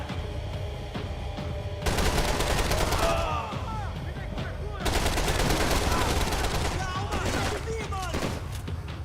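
Gunfire in the video game Max Payne 3 rattles in dense, rapid volleys that briefly ease off before resuming loudly, with voices mixed in behind the shots.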